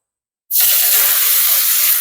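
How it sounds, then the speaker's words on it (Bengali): Pieces of pumpkin dropped into hot ghee in a wok burst into a loud, steady sizzling hiss after a moment of silence, the frying holding strong and even with no talking. "কড়াই আমি ঘি দিয়ে দিচ্ছি কুমড়োটা দিয়ে দিচ্ছি"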